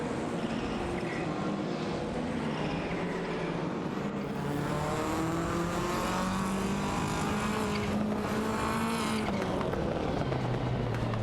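Racing car engine roaring and pulling away in a racing video game, a loud sustained motor drone with rising and shifting pitch throughout, no talking.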